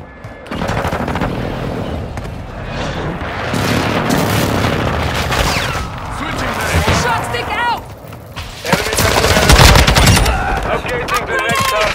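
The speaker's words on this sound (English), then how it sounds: "Enemy precision airstrike." Enemy precision airstrike in Call of Duty Modern Warfare 2 Hardpoint: loud, dense bursts of explosions and rapid gunfire roll through the whole stretch, with a brief lull midway before a heavy blast, and game voice callouts over the din.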